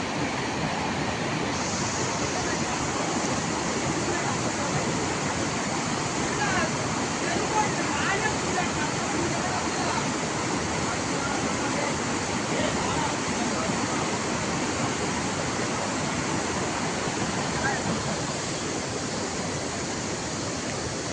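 A waterfall, Mayil Parai falls in Tirupattur district, Tamil Nadu, roars in a steady, unbroken rush of water that stays loud and even from start to finish.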